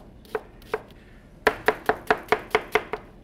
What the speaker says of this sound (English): in a rocking motion, take it down, flip it another quarter turn, and you got yourself a chopped onion